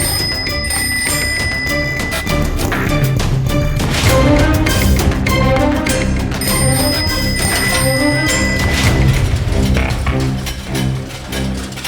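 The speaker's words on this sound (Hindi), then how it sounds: "इस साइकिल की आवाज कहाँ से आ रही है?" Repeated bright bell rings over a busy, loud mix of clattering and ringing tones, the chimes recurring in bursts throughout.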